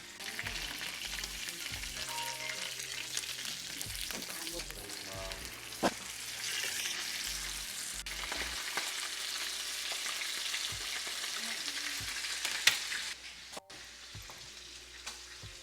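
Pork tenderloin browns in a hot pan with a steady, moderate sizzle, joined by occasional utensil scrapes and clinks, with no voices.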